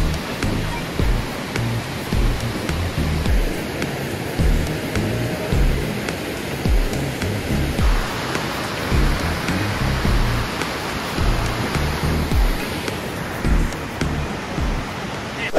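Steady rain falls outdoors near a waterfall in Pingtung, Taiwan, as a dense, even wash of hiss that holds constant throughout, with faint voices low underneath.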